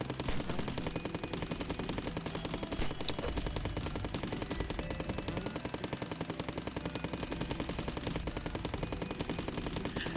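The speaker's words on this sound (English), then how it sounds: "sorry for all the rat-tat-tat sounds in the background. I'm basically going to be auto-firing this assault rifle all across this entire plane" Assault rifle auto-firing in the video game Cally's Trials, a rapid, continuous rat-tat-tat of shots that runs unbroken at a fairly steady level throughout, with no talk.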